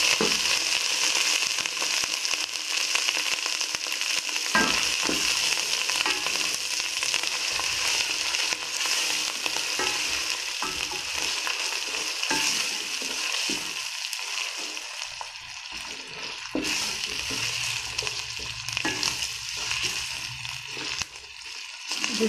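Ginger sizzles and fries in a hot pan, a continuous crackling hiss with occasional stirring scrapes; no talking.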